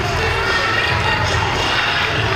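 Loud, continuous roar of a wrestling crowd at an indoor independent event in Burton, Ohio, a dense wash of cheering and shouting with no breaks.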